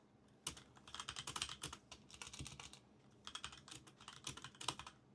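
HTML code being typed on a computer keyboard, with quick clusters of close, crisp keystrokes broken by short pauses, quiet and alone.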